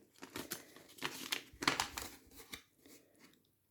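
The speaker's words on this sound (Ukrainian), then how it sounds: "Ось так тут маленький пакетик є із насіння. Відкриваємо його." Crinkly rustling of a small thin paper packet of viola seeds being handled and torn open, several short crackling bursts up close, fading to quiet near the end.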